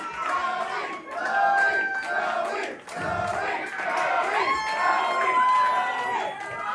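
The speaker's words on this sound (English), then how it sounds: "The crowd went wild, hollering and cheering throughout, and with chants of Khloe continuing long after the number was done." Drag show audience at a Newcastle drag competition hollering, cheering and chanting a performer's name, a dense, loud, sustained roar of many voices with rising and falling surges of shouts throughout.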